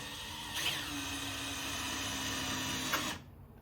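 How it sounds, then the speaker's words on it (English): A drill with an adapter whirs steadily for a few seconds, turning a hose clamp during a thermostat replacement on a 2017-2022 Chevrolet Colorado 3.6L, fairly close, then cuts off. "I honestly like to just use a drill with an adapter"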